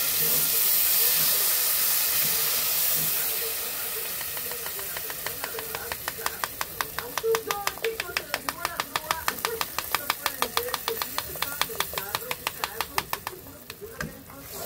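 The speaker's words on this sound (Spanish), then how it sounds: "Está bien doradita, ya le voy a agregar el jitomate." Tomato added to a frying pan in a home kitchen, a broad steady hiss of sizzling oil that eases after a couple of seconds, followed by a run of quick regular clicks or taps under the fading fry.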